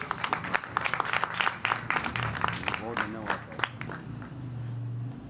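An audience at a jagran, a devotional night gathering, breaks into rapid, uneven clapping that comes in bursts, with a voice talking over and between the claps.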